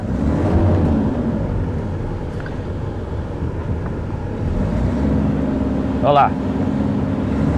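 Toyota Hilux SR 4x4 pickup engine droning steadily as it climbs a slope in reverse, a continuous low rumble with wind buffeting, while people talk over it nearby.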